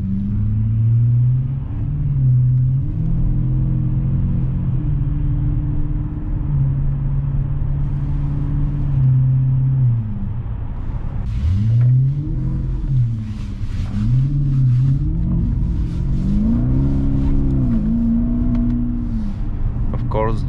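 A BMW E65 745i with worn valve seals in sport mode, its V8 engine droning steadily and then revving up and down in repeated loud surges while the car drifts and spins, heard close from inside.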